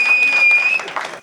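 An audience applauds at a Hindi comic poetry gathering, with a brief burst of dense clapping heard close and loud.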